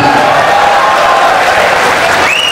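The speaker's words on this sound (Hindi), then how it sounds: "ताली बजाओ जोरदार।" Loud, sustained applause from a large crowd at a birthday celebration for a Chhattisgarh MLA, dense clapping filling the whole stretch with a faint cheer rising near the end.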